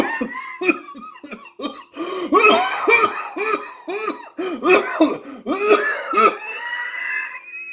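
A fit of repeated coughing and throat clearing is performed during an audiobook reading of a nineteenth-century story, with many harsh bursts in uneven rhythm close to the microphone.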